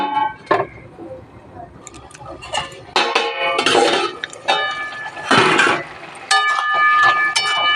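Metal lid set onto a cooking pot of Bengali chorchori with snails, bottle gourd greens and carrots, giving a run of close clattering and clinking knocks, with loud bright clanks and ringing metal around the middle and near the end.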